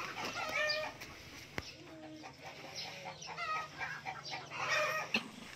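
Several native chickens cluck and squawk nearby in short irregular bursts, with a couple of sharp knocks in a quiet backyard chicken farm.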